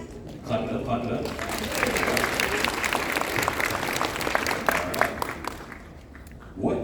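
Convention panel audience at San Diego Comic Con applauding, a burst of clapping from a crowd that holds steady for several seconds and then tapers off, with a voice briefly heard at the end.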